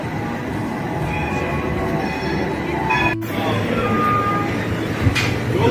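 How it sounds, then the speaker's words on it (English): A tram in Istanbul rolls into a stop with steady wheel and track noise, faint metallic squeals and a sharp click, heard close by without talk. "Here comes my tram."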